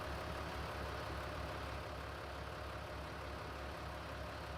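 A tractor engine idles in Farming Simulator 19, a steady low rumble holding even and unbroken throughout, with no voices over it.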